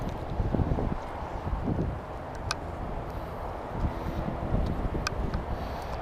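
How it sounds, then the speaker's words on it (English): Strong gusty wind, around 20 to 25 mph, buffets the microphone beside a small pond in San Antonio, a steady low roar with louder surges throughout. "That wind is picking up big time."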